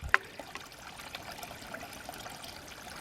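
Water still trickling and leaking from an old spring water source at resort ruins in Shenandoah National Park, a faint continuous dribble with a single sharp knock near the start, heard close and without speech.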